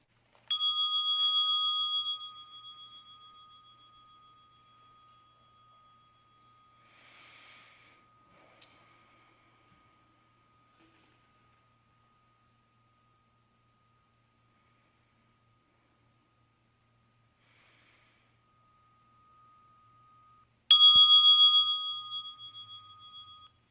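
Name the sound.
bell being rung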